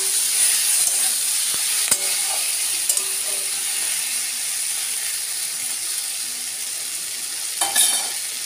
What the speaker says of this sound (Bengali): যোগ করে দিয়ে আবারও ভালো করে নেড়ে চেড়ে এটা আর একটু হওয়া পর্যন্ত অপেক্ষা করব